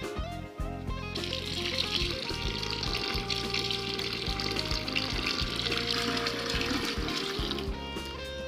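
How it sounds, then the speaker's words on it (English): Hot water poured into a plastic fermenter to dissolve sugar while making a malt-extract whisky wash: a steady rushing splash that starts after about a second and runs continuously, with a low drone underneath, no talking. "along with enough hot water to dissolve the sugar."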